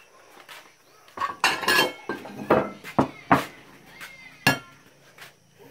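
Plates and dishes clinking and clattering as hot tamales are served at home, a series of sharp close knocks and rattles in an irregular cluster.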